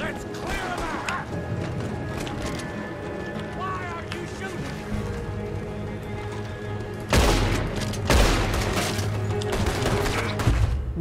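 Red Dead Redemption 2 gameplay with scattered gunshots and a heavier burst of fire near the end, mixed under game voices, hoofbeats and ambient action.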